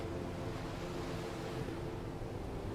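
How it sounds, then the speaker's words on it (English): Ocean waves crash on a beach as a constant, soft, even wash of surf without any talk over it. "There's waves crashing in."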